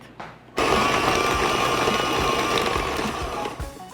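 An electric mixer on medium speed beats butter, sugar and egg yolks for cookie dough, starting abruptly after a brief click and then whirring steadily and close for a few seconds, with no talk.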